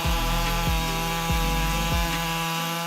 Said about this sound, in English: the Husqvarna 562 MEC 218 chainsaw is considered a powerful machine